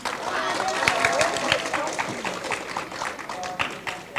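An audience at a middle school 8th grade awards ceremony breaks into scattered clapping, a moderately close patter of many hands with crowd murmur and voices underneath, rising early then thinning out toward the end.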